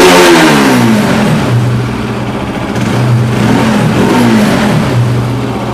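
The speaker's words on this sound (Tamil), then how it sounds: "இப்போ நம்ம ஒன்ஸ் கீ ஆஃப் பண்ணி ஆன் பண்ணிவிட்டு பைக்கை ஸ்டார்ட் பண்ணலாம்" A BS6 motorcycle engine being checked for an oxygen sensor fault runs close by, its note rising and falling in a series of repeated revs over a steady idle hum.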